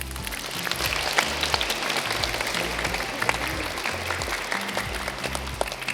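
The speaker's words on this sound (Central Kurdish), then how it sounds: "چەپڵەیەک بۆ خۆتان." A studio audience applauds steadily for several seconds, with dense, even clapping from many hands at close range and no voices over it.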